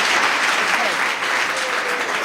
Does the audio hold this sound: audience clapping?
yes